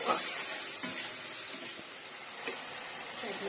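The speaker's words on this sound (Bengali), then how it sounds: "পুরোটা মশলাটা দিয়ে সুন্দরভাবে আমাদের কষে নেবে" Potatoes and spices fry in oil as they are stirred, giving a soft continuous sizzle with a few light scraping ticks, fairly quiet and close, with no voices.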